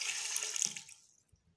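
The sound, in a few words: water poured into pot for mutton biryani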